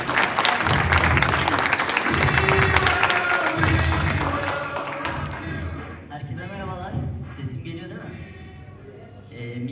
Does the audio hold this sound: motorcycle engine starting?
no